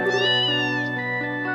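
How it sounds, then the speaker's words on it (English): A cat meows in the Trails in the Sky FC video game: one drawn-out, wavering meow, close and clear with no talk over it. "There's a kitty!"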